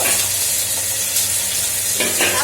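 Potatoes sizzle steadily in hot oil in a pan, a close, continuous frying hiss with a couple of louder stirring scrapes near the end and no talk.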